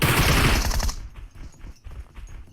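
Automatic gunfire in the mobile game PUBG Mobile, a loud rapid burst that cuts off after about a second, followed by faint scattered shots and clatter in the background.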